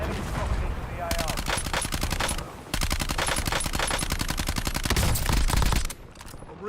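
Video game gunfire rattles in rapid automatic bursts, loud and close, with short pauses between volleys and a voice speaking briefly underneath.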